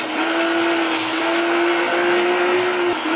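A police car chase in Need for Speed Rivals (2013), played on an HP 14S laptop with an AMD Athlon Silver, with a loud sustained engine whine at steady pitch and a rushing road roar, close and unbroken.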